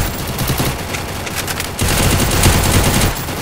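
Rapid automatic gunfire from the Free Fire battle-royale video game, loud and continuous bursts running through the whole stretch, growing denser partway through, with no talk over it.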